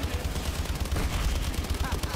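Sustained rapid gunfire from the Call of Duty: Advanced Warfare Exo Zombies game mode, a dense continuous stream of shots, loud and close, with no pauses across the stretch.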